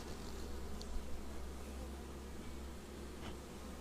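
Honey bees from an organic honey hive in the Artvin hills buzz quietly around it, a faint, continuous droning hum with occasional closer passes.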